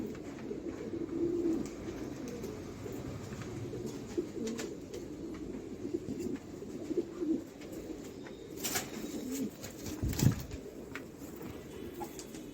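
Tonk breeding pigeons coo in a steady, low, murmuring drone that runs throughout at moderate level, with a few brief rustles and knocks near the end.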